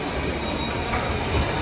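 A metro train rumbles steadily with dense, loud rolling noise and a faint high whine, heard from close by without any voices.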